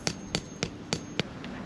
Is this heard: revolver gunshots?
no